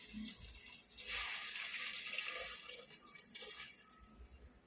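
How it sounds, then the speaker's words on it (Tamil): Tamarind water pours steadily into a pot with a continuous splashing gush that swells and eases over a few seconds. "புளி தண்ணியை ஊற்றுறேன்"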